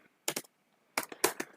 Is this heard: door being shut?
no